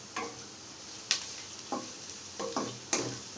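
Dried red chillies fry in oil in a pan, heard as faint, close sizzling with a few irregular ticks and spattering pops, while a spoon stirs now and then.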